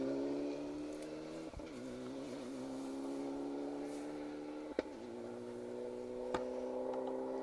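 A Mitsubishi Evo 9 rally car runs steadily at a stage rally, its engine holding a constant drone with a few brief sharp knocks and pops, heard at moderate distance with no one speaking.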